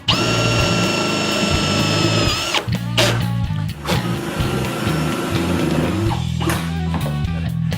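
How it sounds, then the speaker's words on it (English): A nut driver spins self-tapping screws into a metal gate latch in repeated close, loud whirring bursts that speed up and stop, separated by brief pauses and small clicks. "Next thing we're going to do is screw in the latch"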